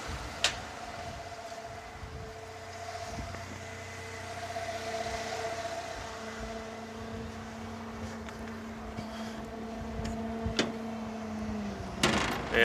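A 1993 Wollard TML704 maintenance lift drives around, its engine a low steady drone with a faint tonal whine that shifts pitch midway, plus occasional clanks and knocks, heard from a moderate distance.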